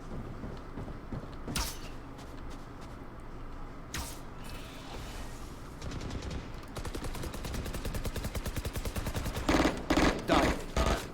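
Gunfire in a video game: two isolated sharp shots come first, then a sustained rapid burst of automatic fire builds toward a few louder blasts at the end.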